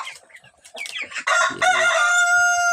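Free-range 45-day chickens fed Madre de Agua leaves cluck in short scattered calls, then a rooster lets out a loud, close crow that rises and holds a long ringing note.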